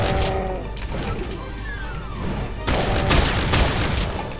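Rapid bursts of gunfire from the video game Brutal Doom played in FreeDoom on GZDoom, dense and loud at first, dipping briefly, then surging again in a heavier volley.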